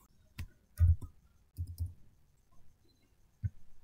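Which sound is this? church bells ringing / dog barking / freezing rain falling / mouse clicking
mouse clicking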